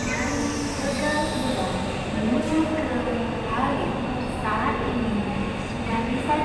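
A high-speed train departs a crowded Indonesian station, rumbling steadily with a broad low hum and murmuring voices of the crowd underneath, continuous for several seconds.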